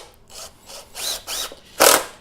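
A power drill drives coated screws into the wooden leg of a simple outdoor planter box, heard as several short, loud whirring bursts close by, each rising in pitch, the last one longest and loudest.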